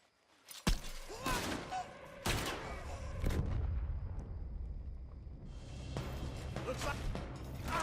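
Gunfire in Red Dead Redemption 2 rings out in loud, sharp shots with long ringing tails, a few spaced blasts followed by rumbling, with voices talking beneath the action.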